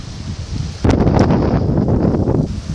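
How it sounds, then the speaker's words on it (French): Strong, almost mistral-like wind gusts buffet the open air on the bridge over the Rivière Saint-Denis, Réunion; a loud broadband rush surges in after a quieter start and blows steadily for about two seconds before easing. "De fortes bourrasques presque mistraliennes."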